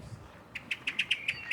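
Birds chirp in a spring park in Zürich, a run of about eight quick, bright tweets in an even rhythm, close and clear over faint outdoor background.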